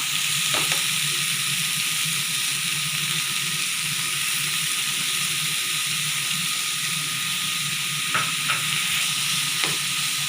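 Vegetables for a soybean mince fry in a pan with a constant hissing sizzle, broken by a few sharp clicks of stirring, steady and close throughout.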